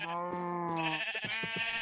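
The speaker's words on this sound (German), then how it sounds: "Schaf." A sheep bleats in the Minecraft video game: one clear, wavering bleat, fairly quiet, with a couple of short clicks near the end.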